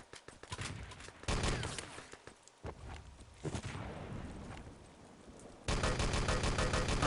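Gunfire in an Enemy Territory match, with irregular bursts of rapid shots and sharp reports at varying distances, some dense close volleys and quieter stretches between.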